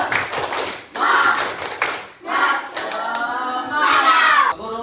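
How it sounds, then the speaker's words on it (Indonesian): A classroom group claps a rhythmic spirit clap in quick patterned bursts, with children chanting along between the hand claps, loud and close. "Tepuk semangat."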